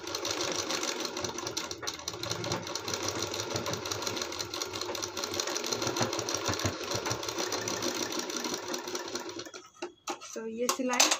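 A domestic sewing machine runs steadily while stitching the hem of a kurti, a continuous mechanical whirr lasting most of the time before stopping near the end, with someone talking over it.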